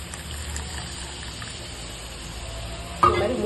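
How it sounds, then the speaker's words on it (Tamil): Tamarind water poured into a pan of hot oil while cooking coconut milk kuzhambu: steady sizzle and splashing throughout, with a louder sharp burst near the end as the liquid hits the oil. "இப்போ புளி கரைச்ச தண்ணியும் சேர்த்துக்கலாம்"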